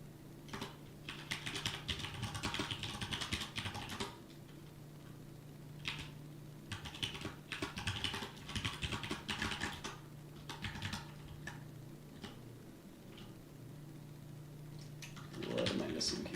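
Clicking bursts from a keyboard at a desk among several mechanical and non-mechanical keyboards, fast runs of keystrokes coming in irregular clusters with pauses between them, close and fairly quiet over a low steady hum.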